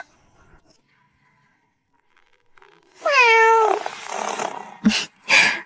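A kitten gives one clear, rising-and-falling meow after a near-silent stretch, followed by a couple of short sharp knocks close by.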